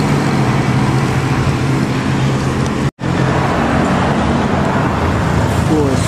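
Heavy traffic with buses on the road at Nagreg, a loud steady engine roar and tire rumble close by, briefly cut by a short gap in the middle.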